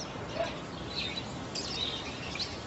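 A caged bird gives faint, high chirps and tweets over a steady background hiss indoors, with no voices heard.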